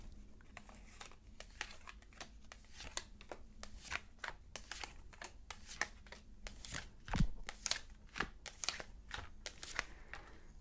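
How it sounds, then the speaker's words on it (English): A tarot deck is cut and shuffled in a quiet room, giving soft, close, rapid card flicks and riffles in irregular bursts with a few louder snaps. "Let's go ahead and cut this deck."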